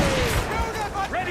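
Ship cannons fire during a naval battle in Assassin's Creed Rogue, muffled booms rumbling low under shouting crew voices and game music.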